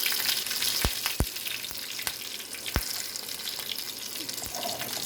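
Green chilies sizzle in hot oil in a pan, a steady close hiss broken by several sharp spattering pops and crackles, alone without voices.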